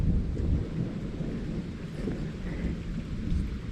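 Thunder rumbles low and heavy right after a lightning flash during a rainstorm at a campsite, a deep rolling boom spread over the whole moment with steady rain beneath it and no voices.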